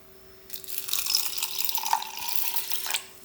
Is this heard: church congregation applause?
no